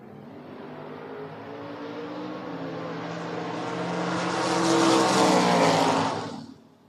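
Drag race cars, one a Camaro, launch and roar at a drag strip: engine noise swells steadily, peaks loud as the cars pass, then drops away abruptly.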